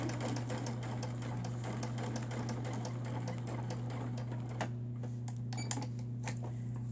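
A sewing machine runs steadily, stitching slowly around a curve with a constant motor hum and fast needle clatter, pausing briefly near the end.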